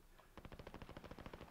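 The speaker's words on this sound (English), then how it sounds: "I hear the gunshots." Rapid bursts of automatic gunfire in a video game, Warzone, rattle in a steady rhythm, faint and somewhat distant, like a firefight heard from afar.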